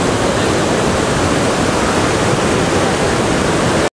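Kuthumkal waterfall in Idukki district, swollen by heavy rain after a dam was opened, gives a loud, steady, broadband roar of crashing water that fills the whole stretch and cuts off abruptly at the end.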